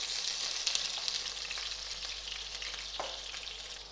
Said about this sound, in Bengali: তাই আমি সামান্য লবণ দিয়ে একটু ভেজে নেব